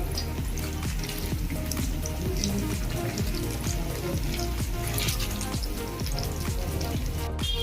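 Bread noodle cutlets deep-fry in hot oil with a loud, dense, continuous sizzle and crackle that holds steady from start to finish.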